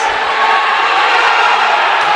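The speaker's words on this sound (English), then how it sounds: "Crowd really starting to become engaged" Loud, steady cheering from a crowd at a women's college volleyball match between Eureka and Dominican, a sustained wash of voices close by.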